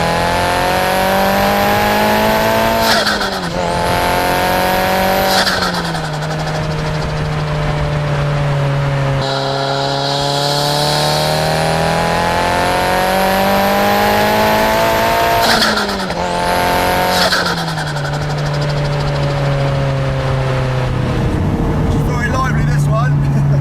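Nissan Silvia S15 with an SR20DET engine pulling hard on a public road, loud revs climbing and dropping through several gear changes up close, with a tire squeal late in the run.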